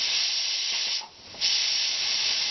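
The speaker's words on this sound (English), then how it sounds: "Watch, don't shoot yourself with some steam." Steam hisses loud and steady from a pressure cooker as the pressure is let off. The hiss stops briefly for a moment, then comes back just as strong.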